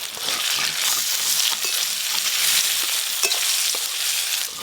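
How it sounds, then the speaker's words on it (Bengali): Cut mango pieces stir-fried in a pan with dry red chilli, five-spice tempering and turmeric, sizzling loudly and continuously with scraping stirs throughout. "আমগুলো কিন্তু একবারে ভাজা ভাজা করবো নি, 2-1 নেড়ে নিয়েছি।"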